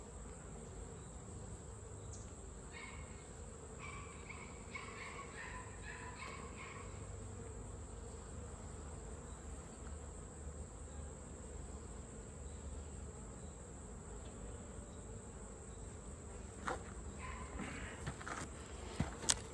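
Bees hum steadily around an open hive during an August split inspection, a low continuous outdoor drone with faint insect chirps and a few sharp knocks near the end.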